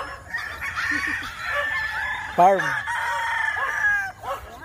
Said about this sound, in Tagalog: Magpapakain na kami ng manok.